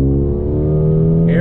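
A 2020 Mercedes AMG CLA 35 pulls hard on throttle, its engine note climbing smoothly and loudly up close in a clean, rising harmonic tone over about a second and a half.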